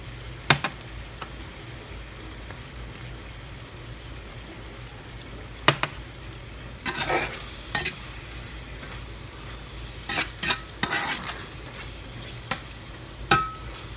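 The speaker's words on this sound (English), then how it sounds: "it's just going to simmer and bubble away" Ground beef with spices in a pan gives a steady, low sizzle and simmer, with occasional sharp clicks and scrapes of stirring, close and moderate in level, no talking.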